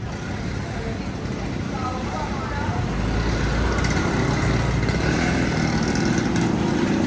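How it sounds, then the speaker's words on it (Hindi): An iconic Bangkok tuk tuk rickshaw engine drones steadily at close range, growing louder midway, set against street traffic with a voice talking over it. "ये है बैंकॉक के आइकॉनिक टुक टुक रिक्शे"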